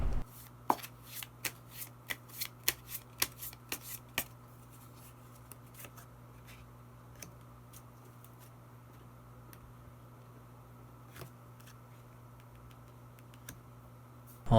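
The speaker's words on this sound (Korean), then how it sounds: "그러면 마지막으로 히든 카드 한 장 더 뽑아보도록 하겠습니다." Tarot cards are shuffled near at hand in a quiet room, making a burst of quick crisp riffling snaps that thin out into scattered soft card flicks under a faint steady hum, with no talking.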